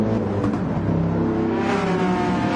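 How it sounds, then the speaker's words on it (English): AMG race car engine accelerating at Brands Hatch in Gran Turismo 7, a loud, close, continuous roar that climbs in pitch as it revs up. "That AMG sure does sound good"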